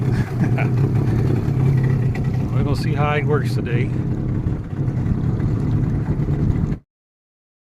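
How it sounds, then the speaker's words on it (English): A steady low drone of a Huangjie 40 HP outboard boat motor idling at low speed runs throughout, with someone talking over it close by. "I've been running for a little while, just idling, low speed running."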